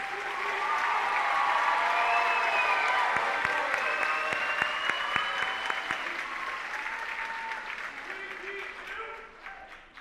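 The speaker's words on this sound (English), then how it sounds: "let's give these fine young people up here on the stage a warm round of applause" Graduation ceremony crowd applauding graduates on stage, a loud swell of clapping with some cheering and murmuring voices beneath it, gradually thinning and fading out toward the end.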